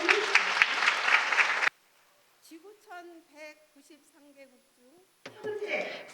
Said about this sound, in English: And for that, I send my applause.